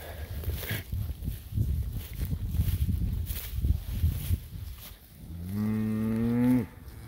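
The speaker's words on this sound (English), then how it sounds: "Just a ridge of happy cows." Cattle being moved along a ridge, with a muffled, shuffling herd noise building to one loud, drawn-out moo close by near the end.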